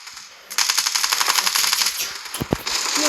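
Rapid automatic gunfire in an online shooter game rattles in a fast, even burst lasting over a second, followed by a couple of sharp single shots and another burst, loud and close.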